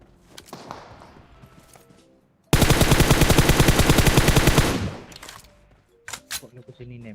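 Automatic weapon fire in the PUBG Mobile battle royale game rips out as one long, loud, rapid burst of about two seconds, set between stretches of quieter chatter and with a few softer clicks and shots trailing after.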